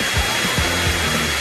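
A hair dryer blows with a loud, steady, broadband rush of air, holding constant and close for the whole moment with no talk over it.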